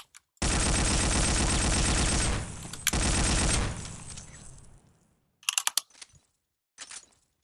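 In a video game, a sustained burst of rapid automatic gunfire with heavy recoil roars loudly for several seconds, then tails off into a decay. A few short, sharper shots crack afterward.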